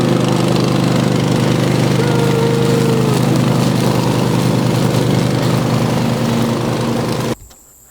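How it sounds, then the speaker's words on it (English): Lawn mower running loud and close while mowing a food plot on a family farm, a steady droning engine that holds evenly, then cuts off abruptly near the end. "I did the first couple rounds of mowing, just mowed the sides there"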